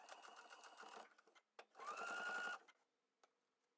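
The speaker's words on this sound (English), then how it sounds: "we're gonna sew a straight stitch really close to the edge" A sewing machine runs a straight stitch close to the edge of a pocket on climbing trousers, in two quick rapid bursts of needle rattle with a short pause between, close by and alone.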